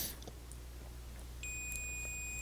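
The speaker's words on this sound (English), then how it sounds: "In both directions, I'm getting a beeping sound." A multimeter's continuity tester beeps across a shorted transistor on a Philips laserdisc player board: a thin, high, steady electronic tone comes in partway through and holds, faint and close, over low room hum, with no talking.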